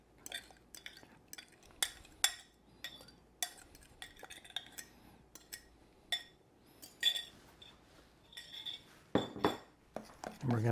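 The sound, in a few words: stirring grits and egg mixture for breakfast casserole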